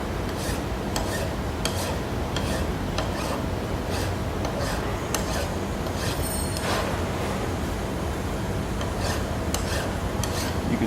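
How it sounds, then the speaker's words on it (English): A coarse file is worked steadily against a wooden tapping block, giving a continuous dense rasping drone with faint recurring strokes, close and fairly loud throughout. "I'm still going to power file."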